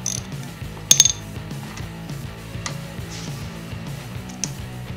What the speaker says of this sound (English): you can begin removing the banjo bolts from the caliper and the master cylinder